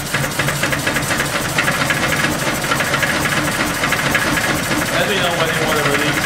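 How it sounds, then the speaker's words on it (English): Brushless DC motor running on a test rig with ignition and relay switched on, a steady buzzing, knocking mechanical drone at close range with a rising whine near the end, voices heard over it. "I will initiate a gas switch, ignition, BLDC relay, and let's run the motor."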